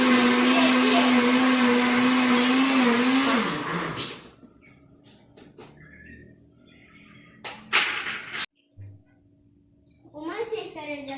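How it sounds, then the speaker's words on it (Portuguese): Kitchen blender whirring loudly as it mixes a savory sausage pie batter, running steadily for about four seconds before stopping, then clinks, a voice and quiet talk follow. "Primeiro a gente vai bater depois botar os ingredientes."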